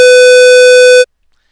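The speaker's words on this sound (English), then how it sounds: "that's the test tone that they give" A steady electronic test tone plays from an iPod shuffle into an inflight power recharger, a loud, pure sustained pitch lasting about a second before cutting off abruptly to silence.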